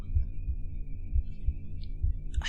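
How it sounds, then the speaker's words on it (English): A heartbeat sound effect in a visual novel video game thumps in a slow, regular double-beat rhythm over a low hum, close and soft. "I hear a heartbeat."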